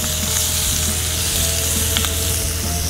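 Bacon frying in a pan for a double-deck cheeseburger, a loud, steady, close sizzle and crackle with occasional pops, no talk over it.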